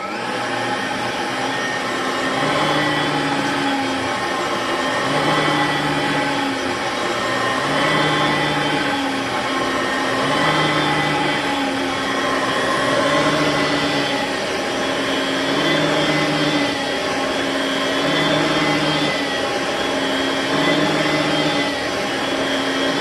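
Oreck XL21 vacuum cleaner with a brand new brush roll running on high over carpet, a loud steady whine that pulses gently in a regular rhythm as it moves back and forth.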